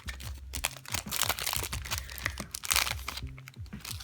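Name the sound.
opening an old card booster pack with scissors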